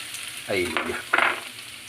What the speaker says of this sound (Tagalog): Gigisa lang natin ng ating luya